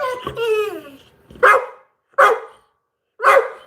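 A dog whines with a rising, wavering yelp, then barks three times at a steady pace, loud and close, with short silences between the barks and no talk.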